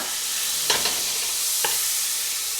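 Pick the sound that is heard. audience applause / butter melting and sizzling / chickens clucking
butter melting and sizzling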